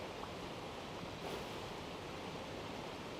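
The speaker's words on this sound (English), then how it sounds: "This waterfall is loud." A loud, steady waterfall roar from the video game Genshin Impact, a continuous broadband rush of water with no other sounds and no talking.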